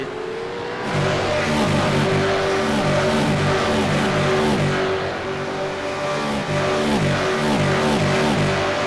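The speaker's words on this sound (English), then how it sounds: "Massive pack of cars." Pack of V8 Supercars racing past close by in an endurance race, a loud sustained roar of many engines with pulsing, rising and falling revs as cars stream by one after another.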